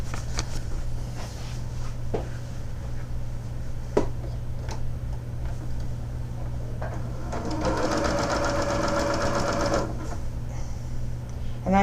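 A sewing machine stitches bias-cut leftover quilt binding in a steady, continuous mechanical whir, growing busier and louder for a few seconds near the end, with faint clicks along the way.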